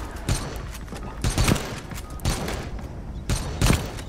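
Rapid bursts of gunfire cut down zombies near a moving train in the video game Pandemic, with repeated loud volleys in uneven clusters and faint background game noise.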